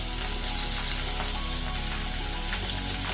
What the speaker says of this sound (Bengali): তেলটা গরম হয়ে গেছে, এখন আমি মাছের মাথাটা দিয়ে দিলাম।